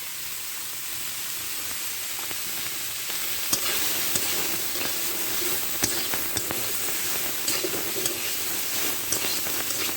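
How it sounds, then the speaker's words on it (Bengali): Green banana and taro pieces sizzle in hot oil in a pan, a steady close frying hiss broken by occasional stirring clicks and scrapes, with no talk over it. "চার 5 মিনিট আমি এভাবে ভেজে নিলাম"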